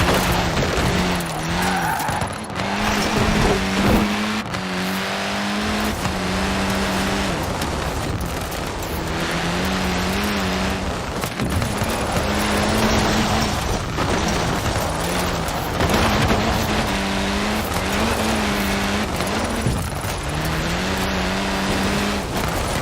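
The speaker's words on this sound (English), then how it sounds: "Enough throttle to push the power slide, enough brake to hold your grip." A car drifts in Forza Horizon 4, its engine droning and rising in loud, sustained tones while the tires squeal through a long power slide, continuous and close without speech.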